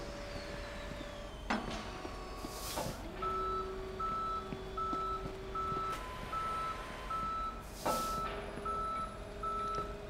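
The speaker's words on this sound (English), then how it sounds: "Thought you would enjoy just taking a look at how this tow truck, or they call them wreckers, takes the cars away." A tow truck wrecker in the Police Simulator patrol game backs up with a steady series of evenly spaced reversing beeps over a constant engine drone, broken by occasional loud air hisses.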